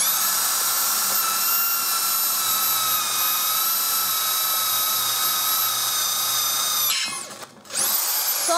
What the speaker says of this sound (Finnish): Me poraamme täällä. Jatketaan porauksia.